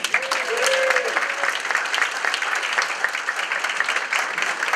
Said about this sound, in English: give a big round of applause for the chairperson of the board, Jenny.